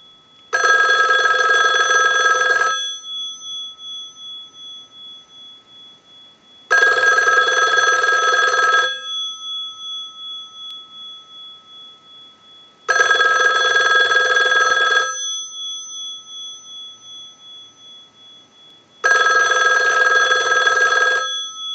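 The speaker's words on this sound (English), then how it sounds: "send a ring cycle like you were getting a call" A Western Electric 500 rotary dial telephone bell rings in four long bursts, each about two seconds, separated by silent gaps of roughly four seconds, loud and close.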